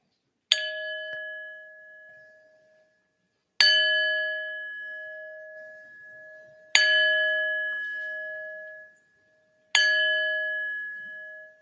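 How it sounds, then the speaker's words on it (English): A church bell at an Easter Sunday service is struck four times at even intervals, each strike ringing out clearly and decaying slowly in a quiet room. "I will ring the bell 7 times"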